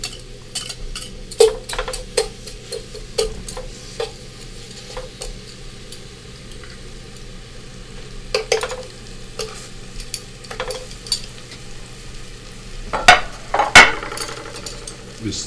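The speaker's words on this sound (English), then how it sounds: "We stir a little bit so it just gives the flavor. You spread the flavor in the pan with the garlic, herbs, and onions." Garlic, sweet onions, rosemary and basil frying in hot oil in a pan, with a soft steady sizzle under scattered scrapes and clinks of a utensil stirring against the metal.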